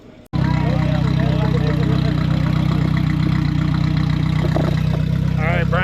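A car engine, likely a turbocharged 2JZ, cranks and catches, then settles into a loud, steady, close rumbling idle, with faint voices in the background.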